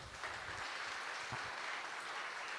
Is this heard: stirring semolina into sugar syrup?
no